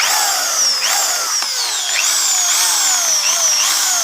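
A repaired electric drill with newly fitted carbon brushes runs loud and close right after being plugged in, its motor whine rising and dipping in pitch repeatedly as it speeds up and slows.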